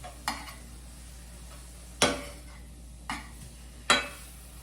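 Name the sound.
flipping crow meat frying in a pan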